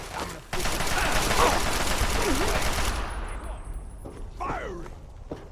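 Heavy gunfire from big guns in the video game Fallout 3, a loud dense burst that fades after a few seconds, with voices calling out over and after it.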